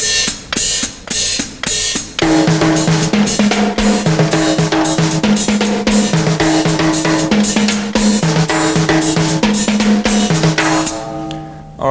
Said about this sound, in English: let's incorporate a Latin timbale part over here, something with the left hand that would sound like this.